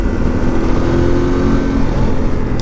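2025 Voge DS800X Rally adventure motorcycle engine pulling steadily under acceleration, a loud, close, continuous drone heard from the rider's position with wind rush mixed in.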